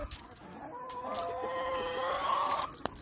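Backyard hens, including a barred rock, cluck and murmur in a drawn-out, rising call held for a couple of seconds, with soft outdoor background and a sharp tap near the end.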